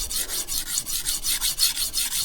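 Knife edge drawn across a sharpening stone, a close, even run of rasping strokes at a brisk regular rhythm, about five per second, with no talking.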